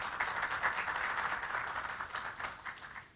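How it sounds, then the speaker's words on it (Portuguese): Audience applause for guests at a medical forum round table in São Paulo, fairly quiet and distant, continuous clapping with a few louder individual claps, gradually thinning toward the end. "Vocês podem aplaudir os nossos convidados."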